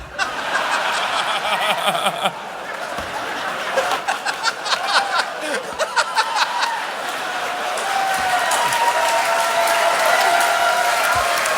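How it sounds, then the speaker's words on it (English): A live theater crowd at a comedy podcast show breaks into applause mixed with scattered laughter and chuckles, building into a sustained wash of clapping that stays fairly loud throughout. "Hold for the applause"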